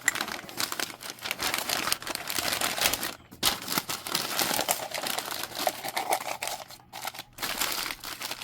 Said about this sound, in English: I'm going to wrap up these glasses